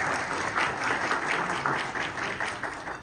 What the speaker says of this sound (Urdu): تو تالیاں تو بجنی چاہیے اس پہ.